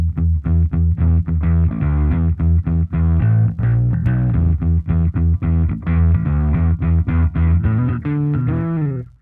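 Bass guitar played through a Cat King drive distortion pedal, a loud, gritty overdriven riff of rapid repeated notes with sustained thick low tones, played alone with no talking.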